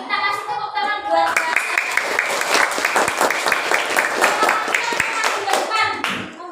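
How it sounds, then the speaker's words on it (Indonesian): Children in a classroom clap together for their handmade piggy banks made from used bottles and paper, a loud, close, sustained patter, with young voices calling out just before and after. "Kita kasih tepuk tangan buat"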